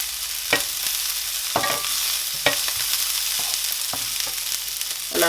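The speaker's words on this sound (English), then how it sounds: "Give it a stir." Celery and vegetables stirred in a lamb stew pot over a sizzling base, with a loud, continuous hiss of frying broken by several distinct scraping strokes of the spoon, close up and with no talking.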